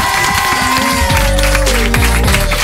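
A studio audience applauds loudly and steadily at a radio show after a child's performance, the dense clapping running throughout under sustained music.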